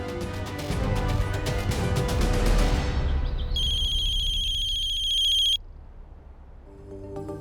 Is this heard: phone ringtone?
yes